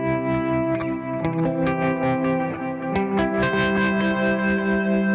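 Electric guitar playing open-voiced triads in a clean tone with tremolo, for worship-style playing: ringing sustained chords change several times at a steady, even level, with no voices.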